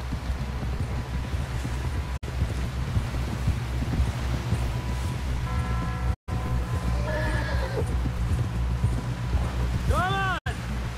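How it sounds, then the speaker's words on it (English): Horse galloping in the video game Red Dead Redemption 2, steady hoofbeats running under game music and voices, with a loud whinny rising near the end. "Someone help John down off this horse"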